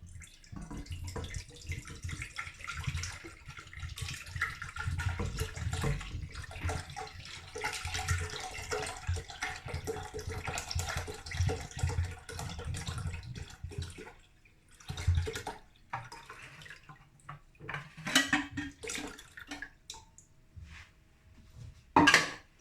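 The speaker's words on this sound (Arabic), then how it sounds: "غادي ندير يطرة ديال الحليب" Cold milk, about a litre, pours into a pot for a cornstarch milk pudding, a steady liquid splashing with small clinks of the pot, running alone for most of the stretch and breaking into shorter bursts near the end.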